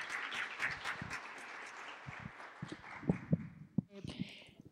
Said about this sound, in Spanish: Un aplauso a la institución